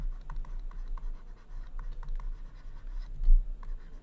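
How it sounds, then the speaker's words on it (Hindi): A pen scratches quickly across paper while a math solution is written out by hand, close and continuous, with short strokes, taps and pauses and no talk. "अब इसको लिख सकते हैं लिखेंगे"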